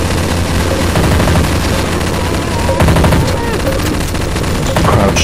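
Dense, continuous rapid gunfire from Counter-Strike: Source zombie escape gameplay on a Super Mario 64 map, players shooting at a Boo, with overlapping bursts filling the whole stretch and faint voices underneath.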